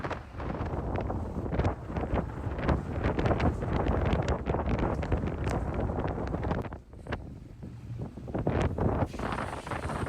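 Strong gusty wind buffets the microphone in loud, rough bursts throughout, with brief lulls and no talking.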